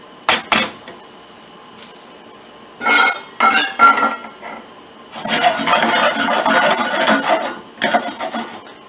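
A utensil scraping and rubbing through butter and sugar in a pan for tarte tatin, close-up rasping strokes in short bursts, then a longer sustained stretch of stirring, with quiet pauses between.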